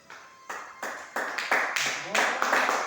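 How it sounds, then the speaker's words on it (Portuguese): A church congregation claps hands during a sermon, a soft, steady patter of many hands that gradually grows louder over a few seconds. "Sente e bate as palmas para Jesus"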